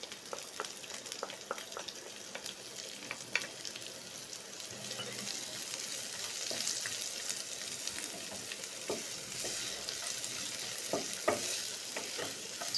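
Onions frying in a pan for pepper pasta, a continuous soft sizzle with intermittent spatula scrapes and stirring clicks throughout, fairly quiet and close, no talking.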